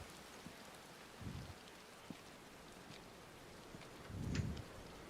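Rain falls steadily in a throne room open to the sky in Final Fantasy XVI, a soft, faint hiss of drops with a couple of brief low gusts.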